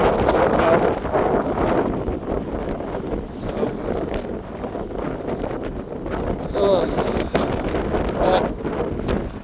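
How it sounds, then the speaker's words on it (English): Strong wind buffets the microphone in a constant, gusty rumble throughout, with a voice faintly audible beneath it. "It's windy as heck out here, so hopefully the wind's not too bad."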